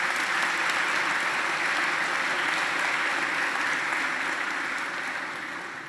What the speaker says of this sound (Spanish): Un aplauso para Jimena.